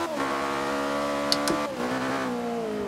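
Ariel Atom engine revs in the Forza 5 racing game on the Nurburgring, a steady, rising whine with a gear shift, loud and continuous with no talk.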